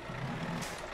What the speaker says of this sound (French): C'est quoi tous ces camions là qui viennent?